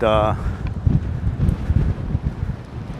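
Strong wind gusting at an outdoor Minnesota lakeside viewpoint near a lighthouse, a steady low rumble buffeting the microphone after a brief voice at the start.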